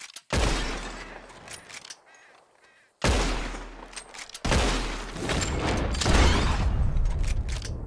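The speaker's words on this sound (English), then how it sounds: "Whoever shoots more of these bottles wins. Just draw your gun and aim when you're ready." Revolver gunshots in a bottle-shooting contest in the video game Red Dead Redemption 2, sharp loud reports in quick bursts with echoing tails and clinking impacts over several seconds.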